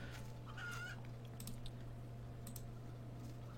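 A chicken in a video game, one whose feathers are being collected, gives a few short, faint clucks over a steady electrical hum, with scattered soft clicks.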